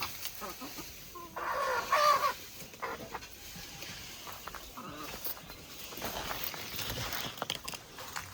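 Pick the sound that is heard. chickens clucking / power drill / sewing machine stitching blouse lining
chickens clucking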